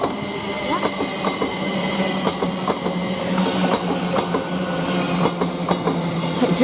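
Thameslink Class 700 electric train running through West Hampstead station on the Luton line, a steady rumbling roar with rhythmic clickety-clack of wheels over rail joints and faint squeal, close and continuous throughout.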